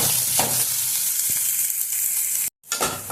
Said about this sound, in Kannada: ಇವಾಗ ಚೆನ್ನಾಗಿ ಫ್ರೈ ಮಾಡ್ಕೊಳ್ಳೋಣ.